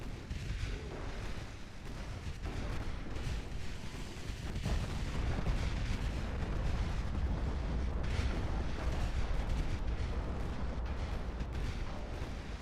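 Torpedo hits and explosions roar through a naval battle in Ultimate Admiral Dreadnoughts, with dense, continuous low booms and rumbling blasts sustained at a steady loud level throughout.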